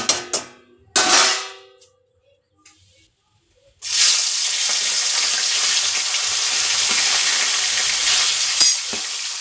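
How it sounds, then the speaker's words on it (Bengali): Hilsa fish heads dropped into well-heated oil, beginning with a few brief clatters and taps, then a loud, steady broadband sizzle of frying that holds for several seconds with no voices. "তো তেলটা খুব ভালো করে গরম হয়ে গেছে, ইলিশ মাছের মাথা দুটো আগে প্রথম ভেজে নেব।"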